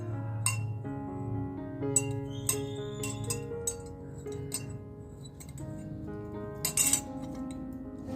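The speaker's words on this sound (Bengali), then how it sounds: "একটা চিনি দিয়েছি ওই জন্য চামচ দিয়েছি ঘেঁটে দেবো" A spoon stirs sugar into a cup of hot red tea, giving repeated light clinks against the cup that sound close and clear over a steady background hum, with no talk.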